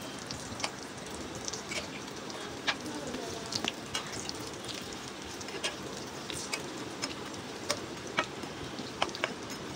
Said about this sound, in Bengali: এখন আমি পাকোড়াগুলো একটা একটা করে গরম তেলের মধ্যে দিয়ে দিচ্ছি ভাজার জন্য